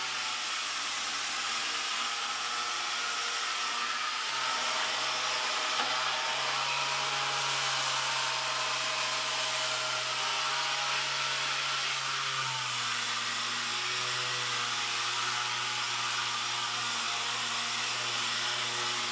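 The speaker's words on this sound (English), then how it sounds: "I'm going to start by just lightly sanding this off." Steady, continuous abrasive whir of light sanding on surface rust of a Villager log burner, loud and close throughout, with a faint tonal hum underneath and no talking.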